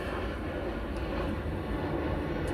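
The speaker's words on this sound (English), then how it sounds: "It's like the second plane that came by." A plane passes overhead, a steady broad low rumble that fills the scene with no talk over it.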